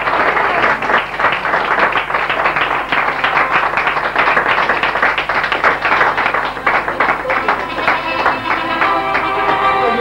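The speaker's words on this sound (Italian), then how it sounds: "Applaudiamo il nome del Signore, che Dio vi benedica." Applause from a congregation at a church wedding ceremony in Naples, a sustained, lively clapping that stays loud and steady for the whole stretch and takes on a rhythmic quality toward the end.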